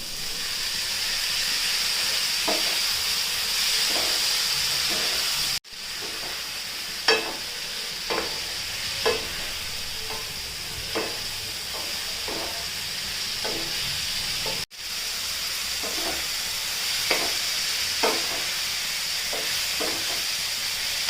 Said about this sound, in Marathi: मसाला चांगला परतून झालाय उमर घालून घ्यायची